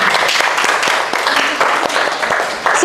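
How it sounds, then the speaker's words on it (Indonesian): Dense applause from a group, a steady wash of many hands clapping together for a few seconds. "Tepuk tangan"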